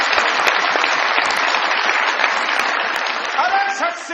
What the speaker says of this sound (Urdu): بہت ساری تالیوں میں ان کو بھی ویلکم کیجیے گا جناب جہانزیب گورچانی صاحب